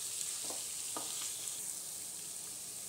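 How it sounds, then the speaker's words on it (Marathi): Sambar masala and turmeric are sautéed in a pan, giving a steady, fairly soft sizzle with a couple of brief stirring scrapes near the start and no voices. "परत आपल्याला हे अजून एक वेळ चांगलं असं परतून घ्यायचं आहे व्यवस्थित"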